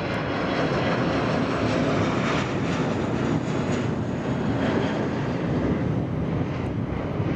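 A Lufthansa Airbus A340-300 at Atlanta airport gives off a loud, continuous jet engine roar, steady and fairly close throughout, with no talking.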